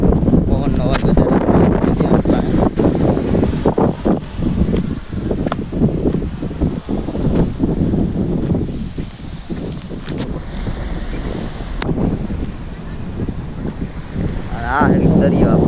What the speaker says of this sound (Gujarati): જોકે અવાજ નહીં આવે બહુ મારો, પવનનો અવાજ વધારે.